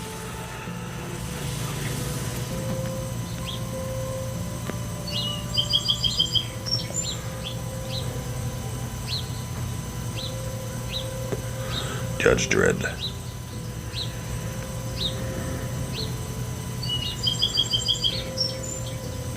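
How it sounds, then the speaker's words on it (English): Small birds chirp repeatedly in short, bright bursts outside an open door of an arcade in Girard, Ohio, fairly faint and steady beneath someone talking indoors. "Birds are really singing."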